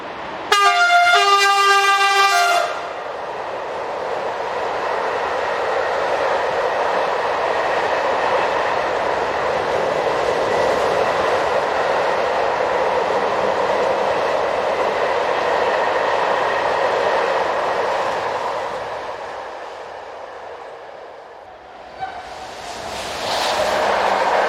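Trains glide past the Arzweiler Tunnel, where rail and canal run side by side, on the line toward Paris: a brief horn toots at the start, then a long steady rumble and rail roar of passing wagons that fades near the end before another sound rises.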